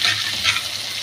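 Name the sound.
potatoes frying with cumin in oil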